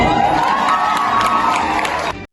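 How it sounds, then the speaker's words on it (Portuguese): A packed cinema audience erupts at the end of a film, loud cheering, shouting and whooping from many voices at once, sustained and dense before cutting off abruptly. "o cinema explode em gritos de empolgação e aplausos ensurdecedores"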